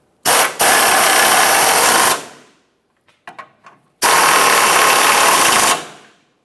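A power tool snugs the front lower engine mount bolts on a 2008-2017 Mitsubishi Lancer in two loud, steady bursts of about two seconds each. Faint clicks and handling noises fall in the short gap between them.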